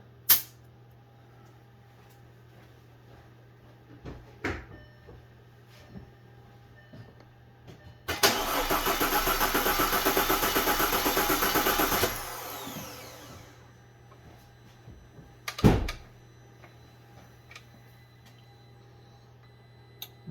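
A 2010 Audi A4 2.0T engine is cranked on its starter during a wet compression test on cylinder 1: a loud, steady burst of rhythmic cranking lasting about four seconds mid-clip, set between quiet room ambience and a few sharp clicks.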